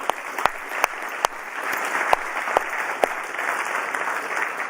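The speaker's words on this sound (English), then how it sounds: "Let's have another round of applause for them, please." Steady audience applause at a marketing conference keynote fills the space, dense and continuous with a few sharper individual claps standing out, no voices over it.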